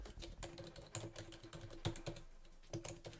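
Typing on a computer keyboard while entering an SQL union select query, with dense, irregular clicky keystrokes running steadily throughout, close and alone with no talk.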